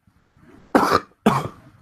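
Two separate coughs about half a second apart, loud and close, with no other sound around them.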